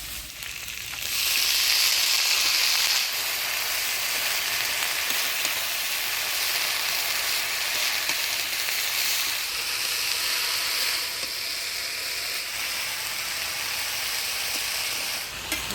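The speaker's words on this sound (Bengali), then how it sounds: "পেঁয়াজ কাঁচা লঙ্কা থেঁতো করা রসুন দিয়ে কাটলে বিচি আলু দিয়ে ভালো করে ভাজা ভাজা করে নিলাম এবার ঢুকিয়া শাক দিয়ে দিলাম" Dhekishak fern greens fry in a pan with potato, onion, green chilli and crushed garlic, giving a loud, steady, close sizzle that runs without a break and with no voices over it.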